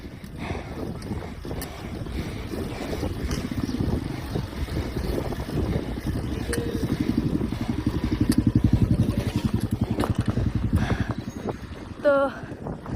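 Motorcycle engine at wheelie and stand practice, a steady throbbing idle that revs up and down, heavy wind buffeting on the microphone and someone talking over it.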